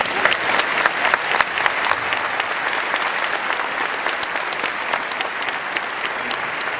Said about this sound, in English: can I please have a round of applause for everybody I just said?